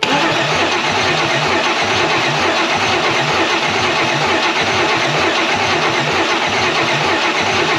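A 5.3 LS V8 swapped into a Land Rover Discovery 2 cranks and starts, then runs loud and close with a steady, rapid engine throb throughout.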